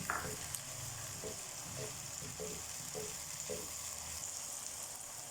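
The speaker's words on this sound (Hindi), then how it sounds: "टमाटर प्याज और लहसुन अदरक को अच्छी तरह से ऑयल में सौते करने के बाद" Steady sizzle of tomato, onion, garlic and ginger sautéing in hot oil, with a few soft stirring clunks and scrapes at regular intervals, close up.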